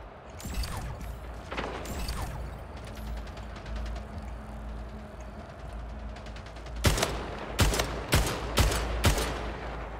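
Rapid bursts of gunfire from the sci-fi shooter video game Splitgate, scattered shots early, then several loud, sharp volleys near the end over a low steady game hum, with no talking.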